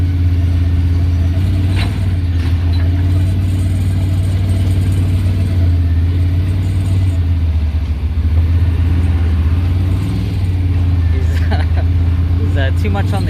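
A tractor's engine drones steadily and loudly, with a child driving it on a property during gate and culvert work, the deep hum rising and falling slightly as the gas is pushed, while people talk over it.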